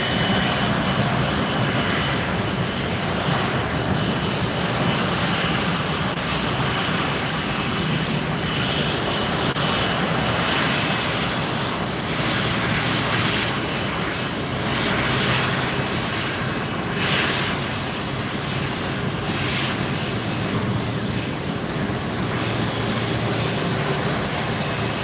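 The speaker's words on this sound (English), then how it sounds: "Big A330 now," An Airbus A330 jet airliner at Fort Lauderdale airport gives a long, loud, steady engine roar and rumble as it passes, filling the air without a break for about twenty-five seconds.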